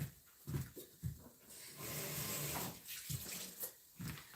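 Kitchen tap runs into a sink while an item is rinsed before cooking, a steady close water hiss broken by splashing bursts as things move under the stream.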